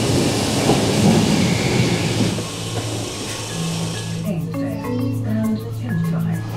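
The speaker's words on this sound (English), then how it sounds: "The first train that's coming through is a three-car service, meaning that it's going to be a 507" Class 507 three-car electric train arriving at a station, a loud rumbling approach that gives way to tonal braking whines and squeals as it slows, with faint talk underneath.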